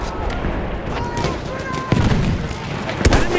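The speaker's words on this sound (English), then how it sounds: "Machine gun, on the left." Machine guns and scattered rifle shots crack through a dense World War I battlefield in a video game at Fort De Vaux, with a steady din of distant firing and a few louder nearby shots.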